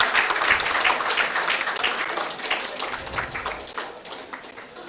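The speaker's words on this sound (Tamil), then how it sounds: "மாணவிகளுடைய பலத்த கரகோஷத்தோடு" Students at a college event in Papanasam applaud, a dense patter of hand claps at moderate loudness that runs steadily for several seconds and thins slightly toward the end.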